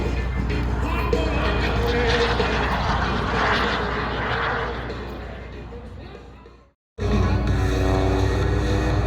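A mini jet aircraft roars past at EAA AirVenture Oshkosh, a loud sustained engine rush that builds and fades before a brief cut, with the engine noise resuming afterward.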